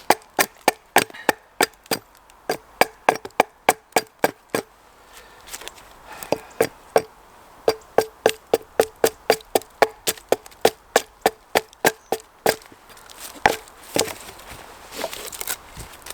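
Broadaxe hewing a log outdoors in the woods: a long run of sharp, steady chopping blows, near and loud, with a brief pause midway and lighter, scattered strikes toward the end.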